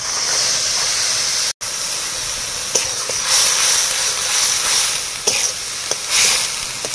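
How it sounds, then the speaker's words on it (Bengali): Black cumin and onion paste fry in hot oil for a Bengali mustard curry with fresh bata fish, giving a steady, close sizzle and hiss throughout, with a brief dropout and a few light stirring clicks. "ভাজার ওই তেলের মধ্যে কিছুটা কালো জিরে দিচ্ছি এবং পেঁয়াজ বাটা"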